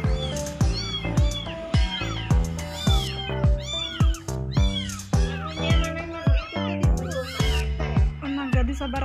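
A sick, abandoned kitten with a sore throat meows over and over in short, insistent cries, close and clear with brief pauses between each call.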